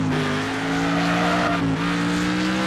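A Pontiac Firebird driven in the video game Next Car Game roars with a loud sustained engine drone, its pitch rising slightly and dipping once, with a hint of tire scrub, close and continuous without speech.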